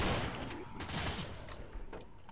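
Rapid gunfire in the zombie shooter Left 4 Dead, a dense cluster of close shots with sharp cracks and some mechanical clatter, no talk.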